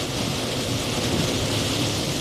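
Heavy hurricane rain pours in a steady, dense roar heard from a moving car, with thunder rumbling underneath. It is loud and continuous, with no talking.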